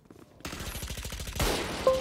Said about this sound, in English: Run and shoot him.